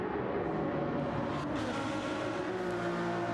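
Race cars on an opening out lap in Gran Turismo 7, engines droning steadily in a bunched pack with a continuous, fairly even roar.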